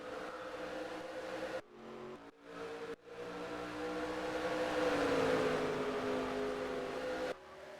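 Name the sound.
NASCAR cup race cars lapping at Phoenix Raceway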